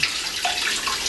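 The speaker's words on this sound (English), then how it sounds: "Going to rinse this baby off." Produce is rinsed under a running kitchen tap, a steady close hiss of flowing water splashing over it, heard alone for a brief moment.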